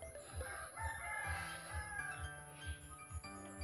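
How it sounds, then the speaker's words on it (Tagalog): A rooster crows several times on a farm plot planted with dragon fruit, the calls rising over a steady pulsing rhythmic background hum and insect-like buzz, moderately near and clear. "may manok tayo dyan"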